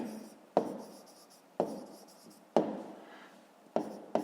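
A pen writing on paper during a fifth-grade maths exercise: scratchy strokes, each starting with a sharp tap and fading off, repeating about once a second, close and quiet with no talking.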